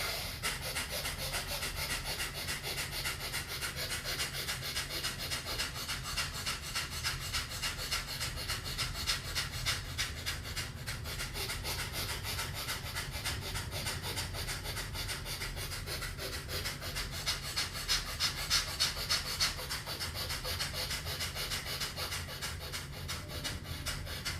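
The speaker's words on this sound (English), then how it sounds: "Breath of fire, in through the nose, out through the nose." Breath of fire breathwork exercise: rapid, rhythmic forceful exhales and inhales through the nose, a steady fast pumping pattern sustained for the whole stretch, close and continuous.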